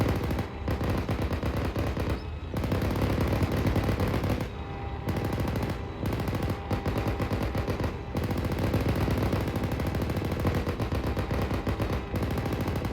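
A tank's coaxial machine gun in a military video game fires long sustained bursts of rapid shots, loud and close, broken by a few short pauses between bursts, with no talk over it.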